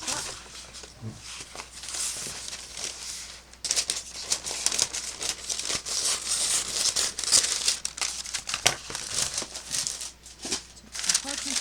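Parchment paper crinkles and rustles as it is handled and laid over fabric for a memory-clothes wall hanging craft, with bursts of crisp crackling throughout and a voice speaking at times.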